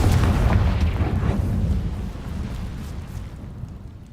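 Confringo blasting spell explosion in the video game Hogwarts Legacy: a deep, loud boom that rumbles and slowly fades over a few seconds, heard alone.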